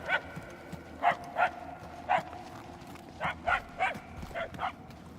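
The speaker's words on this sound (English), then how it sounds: "The barks are getting louder" Dogs bark in Marvel's Guardians of the Galaxy, short sharp yips arriving in small clusters at a moderate distance over a low game ambience, with voices talking in between.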